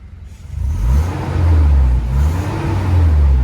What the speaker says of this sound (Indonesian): Sekarang coba kita gas